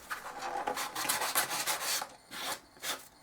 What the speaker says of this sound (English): So just use a file. That's just an emery board.